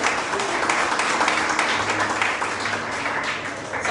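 A church congregation applauds during a Spanish-language sermon, a loud continuous wash of many hands clapping close by, holding steady for the whole stretch with a faint low hum underneath.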